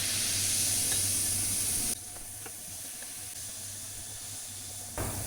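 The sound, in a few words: baking soda reaction fizzing and bubbling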